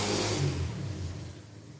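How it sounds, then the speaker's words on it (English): Road traffic passes close by, a car engine swelling in a brief rev and then fading away over under two seconds, with no talk over it. "Sorry for the traffic noise."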